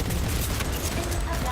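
Gunfire rattles in dense, continuous bursts during Cyberpunk 2077 combat, loud and unbroken throughout.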